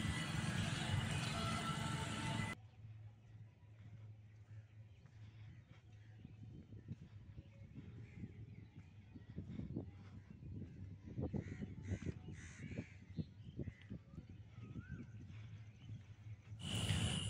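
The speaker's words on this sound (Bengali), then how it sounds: "শুনতেই পাচ্ছেন চারিদিকে কোকিলের ডাক" Koels call repeatedly all around beside a rural railway line, distant rising cries that come one after another over quiet outdoor ambience, with louder noise at the start and end.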